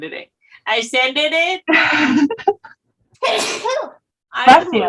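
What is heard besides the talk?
sneeze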